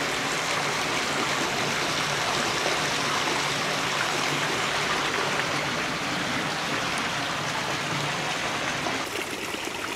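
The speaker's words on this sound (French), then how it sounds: "l'eau est courante ici" Running water at an old stone village wash house in Clairac, a steady close rushing and trickling flow that stays even and continuous, with no voices.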